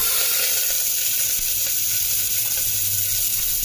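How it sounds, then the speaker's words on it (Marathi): Chopped onion drops into hot oil with cinnamon and curry leaves, giving a loud, steady, close sizzle that fills the whole moment with dense crackling and no speech. "तर आता आपण याच्यात कांदा टाकूया जो मी कापून ठेवलेला आहे"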